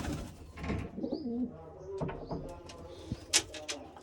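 Pigeons in a netted loft give soft low coos between scattered rustles and clicks, fairly faint and close, with bits of a voice in the background.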